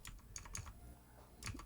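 Fingers type an email on a computer keyboard: a quiet, brief burst of light clicking keystrokes in a few quick clusters, heard alone without voices.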